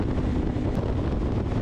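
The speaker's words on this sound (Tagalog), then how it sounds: "Dapat aware din tayo sa hangin na tumatama sa atin" Wind buffeting riders on an expressway, a constant low roaring rumble close to the microphone, steady and unbroken for the whole short stretch.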